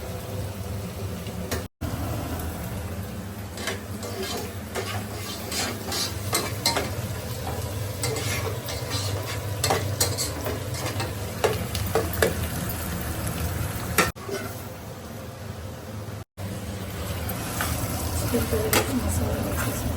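Masala for chicken biryani frying and being stirred in a pan at home, a steady sizzle with scattered scraping clicks of the spoon, close and continuous with a few brief drops.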